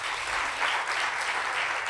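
An audience at a storytelling evening applauds, a brief burst of dense, even clapping with no voices over it.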